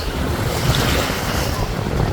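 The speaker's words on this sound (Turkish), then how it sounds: "akşamüstü saatleri olduğu için rüzgar çoğalmaya başladı" Strong wind blowing at a beach in Istanbul, a steady broadband rush with surf and microphone buffeting, loud and continuous throughout.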